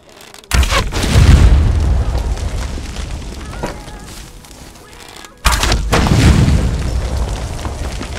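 Explosives packed with demon blood detonating on a bridge trap in Conan Exiles: two heavy booming blasts a few seconds apart, each with a deep rumbling tail of crackling debris, loud and close, with faint talk underneath.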